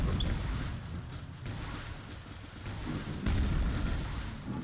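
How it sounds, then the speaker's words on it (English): A deep, sustained rumbling explosion rolls on in Quake II: Ground Zero, a loud low boom with a swelling tail and a second surge near the end, with no talk over it. "I'm getting the credit for doing the explosion."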